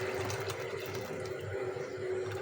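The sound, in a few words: water draining through a steel strainer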